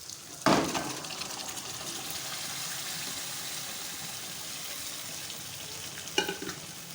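Boiled whole moong dal tipped into sizzling, well-fried masala in a pan, with a sharp splash and clatter at the start, a steady frying hiss throughout and a brief stirring scrape near the end.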